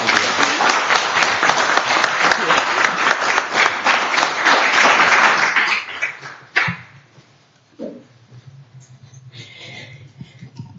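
A crowd at a city council meeting applauds with dense, sustained clapping for several seconds, then it fades out and a few quiet voices and shuffles follow.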